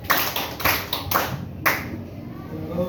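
Sharp, bright hand claps, several quick ones in a short run followed by a pause and another single clap, close and fairly loud in a small room.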